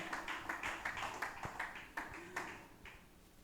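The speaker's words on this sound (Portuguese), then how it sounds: "Palmas bem alegre para o Rei!" A church congregation claps joyfully during a worship service, a quick steady patter of many hands at moderate loudness with faint voices mixed in.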